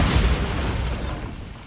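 A Bombarda spell explosion in the video game Hogwarts Legacy: one heavy booming burst that starts at full force, then rumbles and fades over under two seconds.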